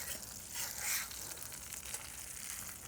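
A Murray cod fillet fries in a pan with its skin crisping, giving a soft, steady sizzle and crackle that stays fairly faint throughout.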